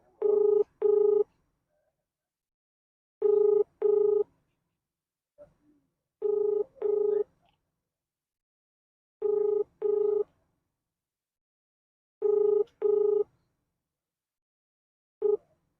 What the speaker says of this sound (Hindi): जेई साहब को फोन मिलाया जा रहा है